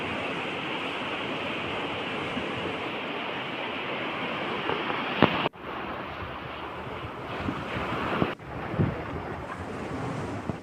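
Sea waves wash onto the shore on an Andaman island beach, a loud steady roar of surf with gusts of wind buffeting the microphone and a couple of brief dropouts.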